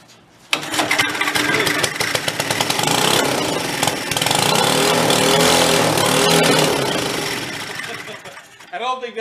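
A 1962 Shriners go-kart's small engine catches and roars into loud, raspy running, revving unevenly for several seconds before dropping off, while people talk over it.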